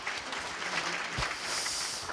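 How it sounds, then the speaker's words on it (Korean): A roomful of people claps at a university labor culture award ceremony. The applause is faint and steady and sounds distant, filling the space as a soft, even wash. "이분들께 한번 좀 수고했다고 좀 박수 한번 보내주시면 감사하겠습니다"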